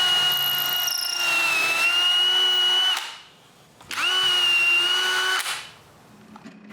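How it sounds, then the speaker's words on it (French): A power drill bores pilot holes deeper into wooden pieces for a stair gate: two long, steady, high-pitched whining runs, the first about three seconds and the second shorter, with brief quiet between and after. "Je me sers des trous comme guide pour les percer à bonne profondeur."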